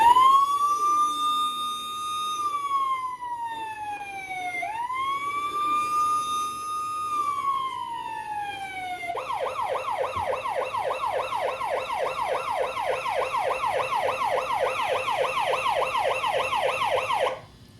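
A police siren from a toy ARRMA RC car wails in long slow rising-and-falling sweeps, then switches to a fast, rapid yelp for the second half, fairly loud and steady with no talking.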